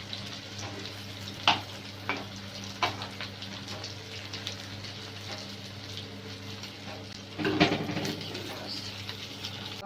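Shami kababs fry in a shallow pan with a low, even sizzle, broken by a few sharp clicks and a brief louder burst of spattering as they are turned.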